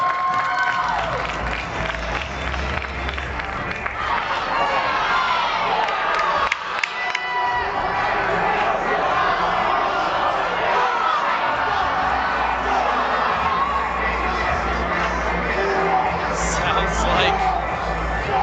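Crowd at a high school hockey semifinal reacting loudly and continuously, a dense roar of shouting and cheering with a brief dip partway through.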